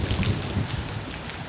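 Steady rain falling in a Star Wars film scene, a dense continuous hiss of drops with a soft low rumble beneath, fairly loud and without voices.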